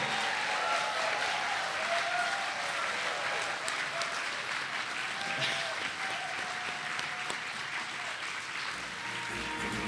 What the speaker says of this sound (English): we can applaud again